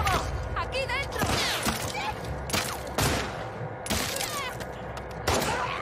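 Gunfire rattles in the video game The Last of Us Part II as repeated close, sharp bursts and thuds with clattering mechanisms, while a player talks over the action.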